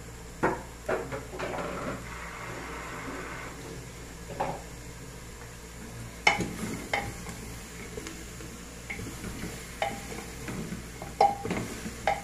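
Chicken feet frying in a pan give a soft, steady sizzle with occasional clinks and scrapes of utensils and cookware, all fairly quiet.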